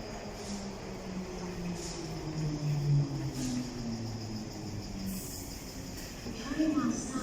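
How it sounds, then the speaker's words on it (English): A London Underground Bakerloo line train pulls into Wembley Central station, its low rumble and rising tonal whine building under platform ambience before a louder swell near the end. "Here comes the Bakerloo line service now."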